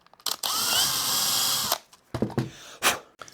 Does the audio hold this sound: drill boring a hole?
yes